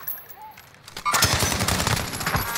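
Call of Duty Modern Warfare gun battle, quiet at first, then a sudden burst of rapid automatic gunfire that keeps hammering close and loud for over a second.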